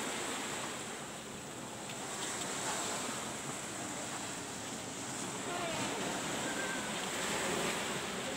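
Waves washing onto the shore at Geger beach, a steady broad roar of surf with gentle swells in level, mixed with wind buffeting the microphone, with no voices over it.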